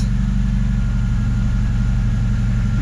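A VAZ 2106 car engine idling just after starting in summer, a steady, loud, close low rumble with even pulsing and no talk.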